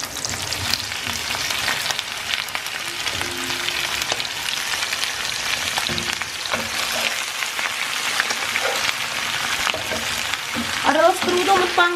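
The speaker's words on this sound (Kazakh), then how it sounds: "Қатты газде қуырамыз." Meat and spices for da pan ji, Xinjiang big plate chicken, fry over high gas with a steady dense sizzle, punctuated by stirring scrapes and clinks of a utensil against the pan.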